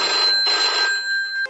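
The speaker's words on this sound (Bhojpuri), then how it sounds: "अभी फोन लगावतन।" A telephone rings while a call is placed, giving a loud, steady electronic tone with a brief break partway through, alone with no talking.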